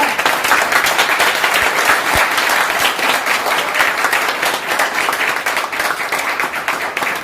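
Loud, dense applause from an audience at a business marketing presentation, sustained clapping from start to finish with little talk.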